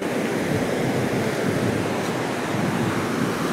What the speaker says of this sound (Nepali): ओ खोला त सेतै छ त यार